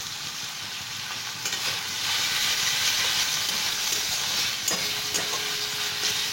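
Onion and crushed garlic cloves frying in a pan as the base for masoor dal tarka, a steady close sizzle that holds continuously throughout with a few faint clinks and no talk.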